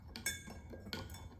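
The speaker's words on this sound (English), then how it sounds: "I'm stirring the salt" A spoon stirs salt into water in a cup, giving a couple of distinct clinks against the cup near the start and middle over a low background rumble, with no talking.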